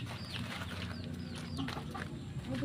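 Ducks in their pen give scattered short calls and quacks at close range, set over a steady low rumble of background noise.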